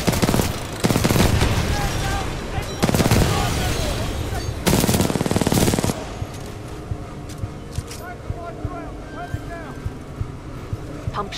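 Automatic gunfire from the Titanfall 2 video game, heavy bursts of rapid fire in the first six seconds that give way to quieter game ambience with scattered faint pops.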